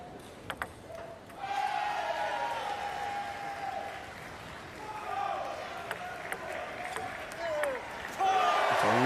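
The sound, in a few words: excited crowd cheering at table tennis match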